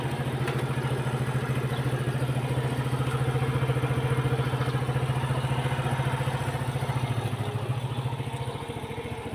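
A motorcycle engine idles steadily at close range, warming up before a ride to work, its low rhythmic chug and faint clatter holding constant for the whole stretch with no talk over it.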